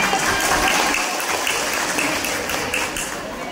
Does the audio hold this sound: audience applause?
yes